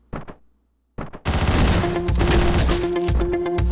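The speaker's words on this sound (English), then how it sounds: "I'm having increasingly problems with the assault rifle, where it doesn't kill the people that I shoot with it." Rapid automatic assault rifle fire from the video game Hotline Miami, a couple of short bursts followed by a long sustained loud volley with sharp repeated shots.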